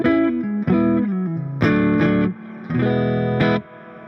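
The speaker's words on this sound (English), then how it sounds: "the reverb is coming from the amps, just a spring reverb" Distorted electric guitar plays sustained chords on a dark neck pickup with a few pauses, each ringing out into a splashy, springy reverb tail from the amp's spring reverb.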